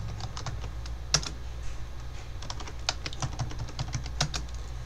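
Clicks of a computer keyboard as a Linux command is typed, crisp, close and irregular, alone without talk.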